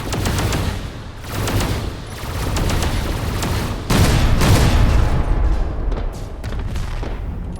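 Weapons open up on an asteroid in Space Engineers, a loud fusillade of rapid gunfire bursts and booms that rises and falls in waves and surges hardest midway through.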